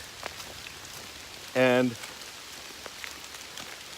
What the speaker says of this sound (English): This is a real rain, a good AT rain